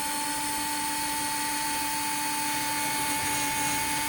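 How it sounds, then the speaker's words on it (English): An electric screwdriver backs out a screw from a door knob, giving a steady, continuous high whine with no pauses and no talking. "So now you can take the electric screwdriver."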